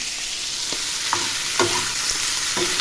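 Sliced onions frying in a pan, a steady hiss of sizzling oil with a few soft stirring scrapes at intervals.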